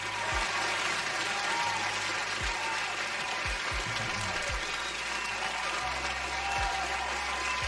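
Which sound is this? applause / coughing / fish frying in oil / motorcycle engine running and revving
applause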